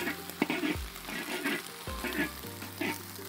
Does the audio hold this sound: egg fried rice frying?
yes